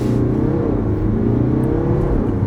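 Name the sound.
BMW 523d four-cylinder diesel engine revving in sport mode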